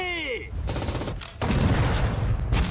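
Anti-tank grenade blasts and gunfire in the WWII strategy game Sudden Strike 4, Battle of Moscow: a falling whistle gives way to dense, loud rumbling bursts of explosion and shooting that continue to the end.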